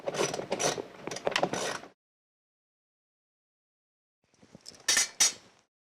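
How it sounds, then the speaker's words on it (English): A socket wrench ratchets against a nut at the back of a ProMax40 machine, two bursts of close metallic clicking separated by a few seconds of silence, with no talk. "Use the socket to remove the nut."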